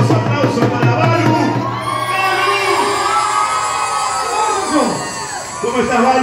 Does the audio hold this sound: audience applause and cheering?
yes